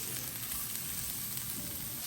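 Red pepper and carrots stir-frying in a wok for arroz, a steady close sizzle of frying with faint stirring throughout, no voices.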